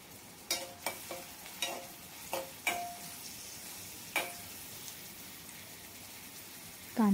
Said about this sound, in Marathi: मी बारीक चिरलेला कांदा घालणार आहे आणि चांगलं परतून घेणार आहे.